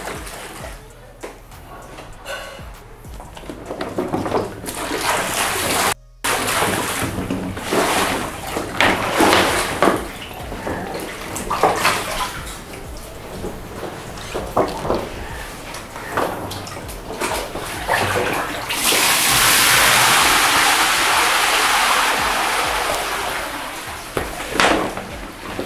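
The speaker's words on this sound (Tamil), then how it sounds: "நல்லா வாஷ் பண்ணிட்டு நம்ம தண்ணியை வெளியே ஊற்றிடலாம்." Water from a small inflatable kids' swimming pool is poured out after washing, giving a continuous splashing, gushing rush that swells loud near the end, with scattered knocks and handling sounds throughout.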